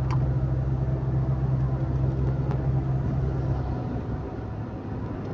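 A Mitsubishi Mirage cruising in fifth gear at about 80 km/h and 1,800 RPM, a steady low engine drone and road rumble heard from inside the cabin, constant and moderately loud.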